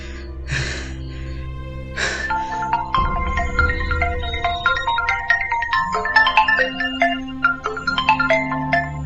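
A phone ringing while someone places a call, with a few brief breathy sounds and then a steady melodic ringtone pattern of repeating electronic tones, fairly loud and close.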